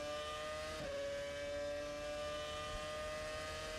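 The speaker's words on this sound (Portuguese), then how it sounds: "Vamos curtir um pouquinho a tocada do Robert Dornbos com a sua RBR" A Red Bull Formula 1 car with a Ferrari engine, on track during practice at the 2006 German Grand Prix, screams at high, steady revs with a brief downshift blip, faint and distant in the broadcast mix.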